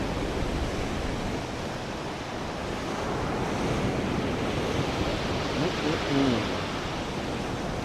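Ocean waves break and roll on a windy shore, a loud continuous roar of surf with heavy wind buffeting the microphone; a brief faint voice surfaces near the end.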